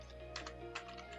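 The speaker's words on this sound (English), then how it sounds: "what I'm going to do here is just type in Python" Soft, fairly distant keystrokes on a computer keyboard typing a Python command into a Linux terminal on Windows, a few scattered taps over a steady low hum, with no talking.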